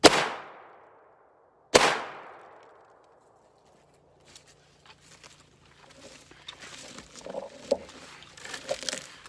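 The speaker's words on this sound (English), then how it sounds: "the first gun I shoot today is going to be an AR-15" An AR-15 rifle fires 5.56 rounds, two sharp loud shots about two seconds apart with fast-decaying ringing, followed by quiet rustling and faint handling sounds.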